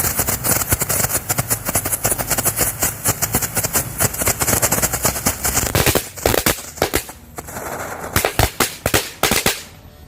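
Firecrackers set off in a row outdoors during the fasting month, sharp loud cracking bursts clustered in rapid succession with crackling pops, a dense barrage followed by a few separate bangs toward the end.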